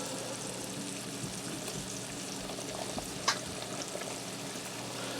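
Diced garlic simmering in butter in a pan over low heat, a soft, even sizzle and crackle that runs steadily throughout with one brief tick in the middle.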